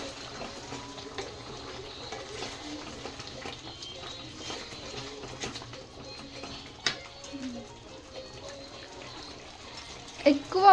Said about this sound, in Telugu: సో అవి ఉడికే మందము అట్లా వేస్తున్నాం వాటర్